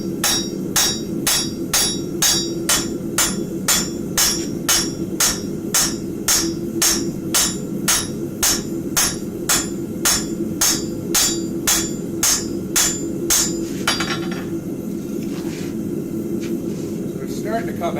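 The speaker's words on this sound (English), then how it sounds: "Flat side of my hammer now. I'm just smoothing out some of those cross beam marks as much as possible." A blacksmith strikes hot scrap metal with the flat face of a hammer on an anvil, smoothing the surface in a steady run of evenly spaced ringing blows. The blows stop near the end, and the forge hums in the background.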